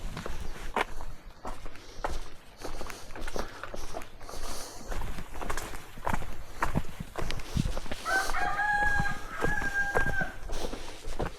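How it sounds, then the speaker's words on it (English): A rooster crows, clear and fairly close, near the end, following footsteps crunching along a walking trail during a hike to Banyu Wana Amertha Waterfall in Bali. "Chicken!"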